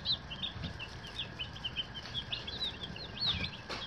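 Meat-bird chicks cheeping on a farm, a steady run of faint, high, repeated peeps spread through the clip over low background noise.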